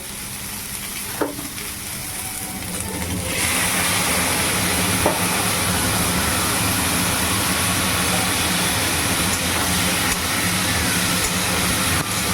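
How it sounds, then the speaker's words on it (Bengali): Pointed gourd (potol) already fried in a pan gets a spice paste of Kashmiri chili powder, cumin, coriander, ginger paste, turmeric and salt; a steady close sizzle swells noticeably louder and harsher a few seconds in and keeps crackling. "পটলটা ভাজা হয়ে গেছে, দেখো মশলাটা দিয়ে দিচ্ছি।"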